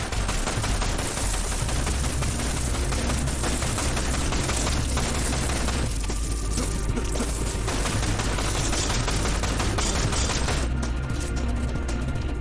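Sustained ranged machine gun fire in the Dirge of Cerberus: Final Fantasy VII video game, a dense, loud, continuous rattle of shots with booming low end that runs unbroken for the whole stretch.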